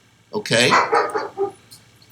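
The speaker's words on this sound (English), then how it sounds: "Excuse my dog barking there." A dog barks in a quick cluster of sharp, close barks, fading to a smaller yip, heard alongside a person speaking indoors.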